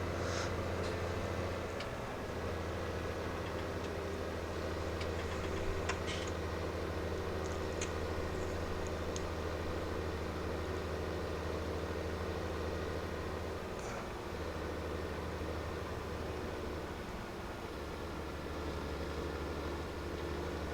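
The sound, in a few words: vehicle engine running in video game Farming Simulator 17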